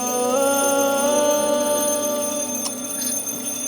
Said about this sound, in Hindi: सुमन प्लीज अलार्म बंद करो ना यार।